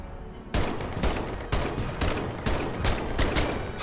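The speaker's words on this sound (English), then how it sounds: "Give me my Garand! I'm gonna shoot from there then." Rapid M1 Garand rifle shots in the Medal of Honor video game, about seven sharp cracks spaced roughly half a second apart, fairly loud over a constant game background.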